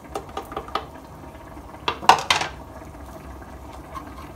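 A spoon clinks against a bowl and scrapes through as salt, coriander, garam masala, Kashmiri red chili and turmeric are mixed into yogurt for mutton rogan josh, with a few sharp knocks near the middle and quieter stirring around them, no talk.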